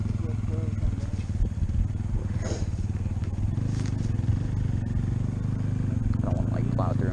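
Honda dirt bikes, including a small CRF 70, ride through mud with a steady buzzing engine drone, occasional clatter and spatter, and voices talking over it.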